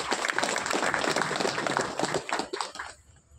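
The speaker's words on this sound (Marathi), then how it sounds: "तुमच्यासाठी एकदा जोरदार टाळ्या होत्या" An audience at a devotional music gathering gives loud, dense applause that carries on steadily and then fades out in the last half-second.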